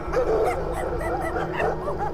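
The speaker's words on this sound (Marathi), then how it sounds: "कुठेतरी दूरवर कुत्र्याच्या भुंकण्याचा आवाज येत होता" A dog barks, yips and whimpers in a continuous run of fairly loud, closely spaced calls, set as the sound of a dog in the night for a Marathi horror story.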